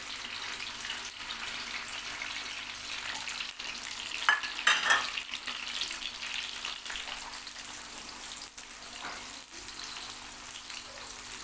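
Onion frying in hot oil for a keema dish: a soft, continuous sizzle with occasional brief stirring sounds, fairly quiet and without voices.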